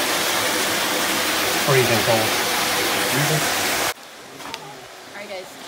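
Steady broadband rush of water falling at Lace Falls, loud and continuous for about four seconds before cutting to a quieter outdoor scene, with a person speaking briefly over it.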